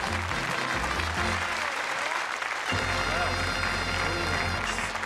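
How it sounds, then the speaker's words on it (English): Studio audience on the 1983 Bullseye game show gives a warm round of applause, dense steady clapping that swells after a brief dip and carries on loud throughout, with music and other sound mixed underneath. "Nice warm round of applause for the two Daves"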